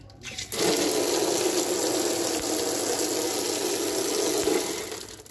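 A strong, steady spray of water gushes from a tap fed by gravity from a tank, with no pump. It starts abruptly after a brief pause and rushes on loud and close until it tapers slightly at the end.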